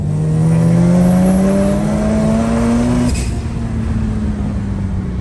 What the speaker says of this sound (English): 13B turbo Corolla. Man, this thing's rowdy as.